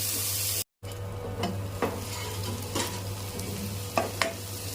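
Onions and green chillies fry in a pan for an egg curry, with a soft, even sizzle broken by a brief dropout near the start and several scraping stirs.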